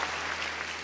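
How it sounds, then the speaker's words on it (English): Audience applause fills a talk event featuring Johnny Depp and Lawrence Krauss: dense, steady clapping from a crowd, evenly sustained and fairly close for just under a second, with no voices over it. "you should applaud at that, by the way"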